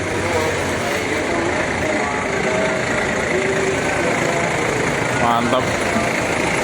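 A Hino RN 285 coach bus engine idling at a depot in Palembang, giving a steady, loud, close diesel rumble throughout while someone speaks briefly over it.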